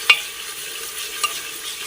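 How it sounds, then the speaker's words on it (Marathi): Chutney masala paste for Kolhapuri mutton rassa roasts in a pan, with a faint steady sizzle and a couple of brief stirring scrapes, no voices. "मसाला वगैरे टाकून घेतले, चांगलं भाजून घेऊयात"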